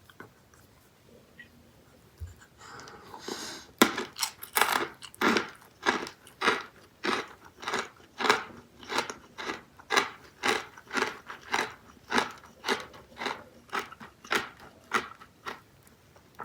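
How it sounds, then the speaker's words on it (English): Close, loud crunching of sour Skittles freeze-dried candy being chewed, a steady rhythm of crisp bites repeating for several seconds. "It's kind of a little bit fun to eat because it makes all kinds of noise."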